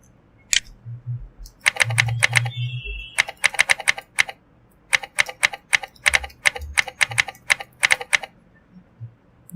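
Fingers type a name on a computer keyboard in close, crisp bursts of rapid clicking keystrokes, with brief pauses between the runs and no talking over them.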